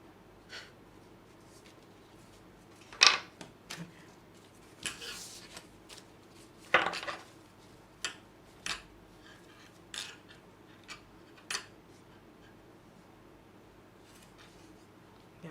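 Intermittent crisp slaps and riffling snaps of tarot cards being shuffled, close by, irregular bursts separated by quieter gaps with faint background hiss.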